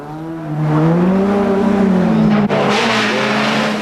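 A racing car at the 1990 Phoenix Park Motor Races drives hard with a loud, steady engine roar whose pitch climbs and sweeps, briefly breaking near the end as if shifting gear, then roaring on.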